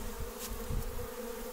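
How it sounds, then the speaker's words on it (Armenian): Honey bees buzz loudly and close as they are shaken off hive frames, a dense, continuous drone with a brief thump partway through. "Այս ծրողների արանքում ենք դնում։ Մեղուներին թափենք տալիս։"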